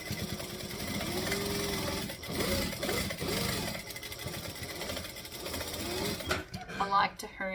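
A sewing machine runs fast and continuously, stitching a bag seam, with a steady mechanical whirr that holds for most of the stretch and then stops near the end.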